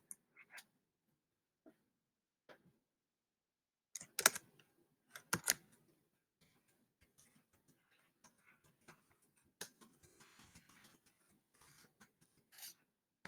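Sparse, faint keystrokes on a computer keyboard, with quiet gaps and a few louder clusters of taps while a sentence is typed out.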